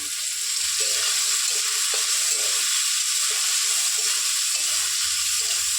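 Potato pieces frying in oil with salt and turmeric give a steady, close hiss that carries on without a break, with a few faint stirring knocks underneath and no talking.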